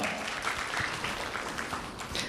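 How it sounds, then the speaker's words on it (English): Ceremony crowd at an anniversary, internship completion and scholarship ceremony applauds an introduced guest with even, continuous clapping from many hands, moderately loud and steady. "Please give a round of applause."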